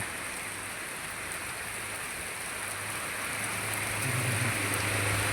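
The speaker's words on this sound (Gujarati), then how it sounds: "જો મિત્રો, વાવાઝોડા સાથે ને ભારે વરસાદ આવી ગયો." Dense, steady downpour of heavy rain hisses throughout, with a faint low rumble underneath; no one speaks.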